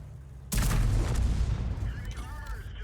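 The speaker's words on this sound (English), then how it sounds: "You're coming up against a 15cm howitzer, which is capable of huge damage." A 15cm howitzer on a Sturmpanzer I Bison fires in a video game, one sudden loud boom followed by a long rumbling decay and faint whining tones.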